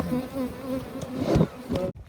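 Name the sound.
honey bees buzzing around a hive being moved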